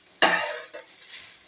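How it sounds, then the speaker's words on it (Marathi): Ground masala paste with chopped coriander being stirred and roasted in a pan: a sharp scrape at the start, a second softer stroke, then a low sizzle fading. No one speaks. "आता यामध्ये आपण चिरून म्हणजे छान अशी कोथिंबीर मी आता यामध्ये घालून घेणार आहे, आणि या वाटणामध्ये याला देखील असं परतून घेणार आहे"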